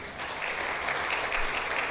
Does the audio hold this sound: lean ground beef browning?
no